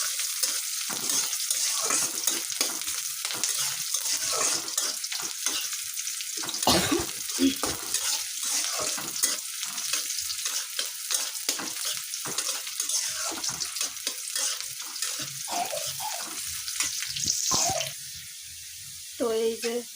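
Finely chopped ingredients frying in oil until brown, a loud, dense hiss with stirring scrapes throughout, while a voice talks over it, settling quieter at the very end.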